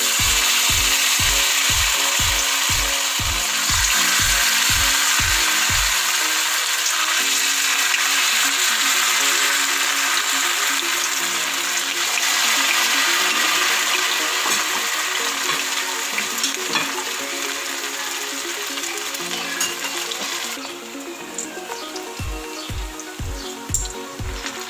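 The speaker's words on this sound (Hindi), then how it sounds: "हमारा ऑयल गर्म हो चुका है। अब इसमें पकोड़े ऐड करने लगे।" Vegetable noodle pakoras fry in hot oil with a loud, continuous bubbling sizzle, while rhythmic tapping or scraping knocks sound at the start and again near the end.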